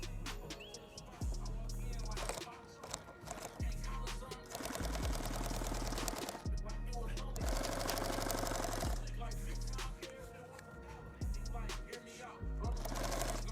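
A sewing machine hems the edges of a rifle case: rapid mechanical stitching runs in long bursts separated by short pauses and soft clunks as the fabric is repositioned, close and fairly loud. A voice may be faintly present.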